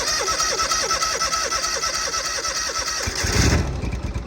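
A Scag mower engine with the choke on at half throttle cranks in a rapid, rhythmic whirring for about three seconds, then catches and bursts into a loud running roar nearby.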